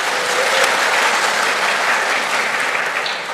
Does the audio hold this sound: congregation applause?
yes